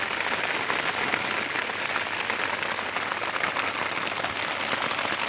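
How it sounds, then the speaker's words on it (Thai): Heavy rain pours down in a dense, constant hiss and patter, loud and unbroken throughout. "ฝนตกครับฝนตกแรงมาก"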